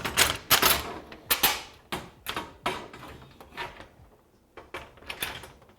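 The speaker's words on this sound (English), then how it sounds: "install the nylock nuts on the back side" Nylock nuts are threaded onto bolts on the back side of a mounted plate, making a string of close clicking, ratcheting and metallic scraping bursts in an uneven rhythm, with short quiet gaps and no talking.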